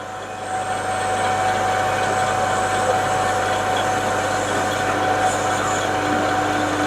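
A lathe cuts a front cylinder cover: a constant, even machine drone with a thin steady whine running over it, close and unbroken from start to finish, with no speech.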